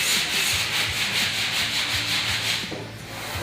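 A grinder works down a welded joint on a van in a shop, giving a steady, loud abrasive rasp that runs continuously and eases off slightly near the end, with no talking.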